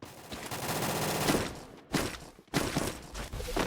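Rapid sustained gunfire in the Free Fire video game, dense automatic bursts with brief gaps between volleys, loud and close, with no talk over it.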